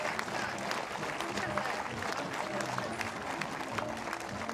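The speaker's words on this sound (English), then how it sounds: "You hear the crowd getting into it. They're really cheering on that this German team." A crowd at a women's recurve archery team gold match in Berlin cheers and claps in a continuous moderate wash, heard from a distance without clear individual voices.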